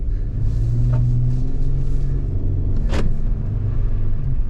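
A Jeep 4x4 climbing a snowy hill after a winter storm makes a loud, steady engine rumble from inside the cabin, with a brief sharp scrape or knock partway through.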